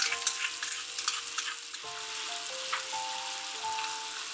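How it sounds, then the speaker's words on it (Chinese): Filling stir-fried in a pan with mushroom soaking water, soy sauce, oyster sauce, sugar and salt, sizzling steadily with scattered stirring scrapes and no talk. "拌炒均匀，煮至沸腾"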